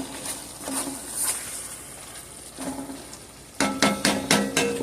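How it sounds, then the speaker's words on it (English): Ground beef with ginger paste cooks in a pot for chili, a low steady sizzle broken by a few scraping stirs and a quick run of spoon knocks near the end. "I'm going to let that cook down some more to make sure that ground beef is cooked thoroughly through"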